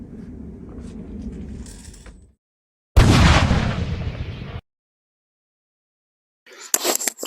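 An M16A1 replica rifle fires bursts on full auto, a short rattling volley, then silence, then a louder sustained burst of rapid shots, and after a pause a final brief crackle of shots, all close and alone.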